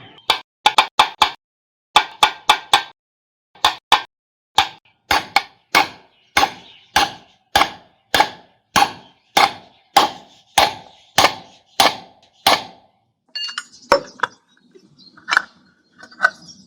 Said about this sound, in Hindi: एक बुश हमने ठोक दिया है इसमें